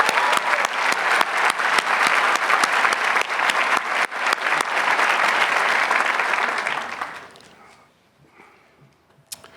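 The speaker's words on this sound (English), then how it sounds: "I'd just like to give her a round of applause." An audience at a law and graduate school commencement gives sustained applause, a loud, dense wash of many hands clapping for about seven seconds before fading to a quiet hall with a few scattered sounds.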